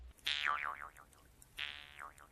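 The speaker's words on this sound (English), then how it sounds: "The human performance is driving the shape of the twanging Jew's harp." Two twanging Jew's harp notes with wobbling, wah-like pitch sweeps shaped by a human performance, the first sounding just after the start and the second about a second later, fairly clear with no talk.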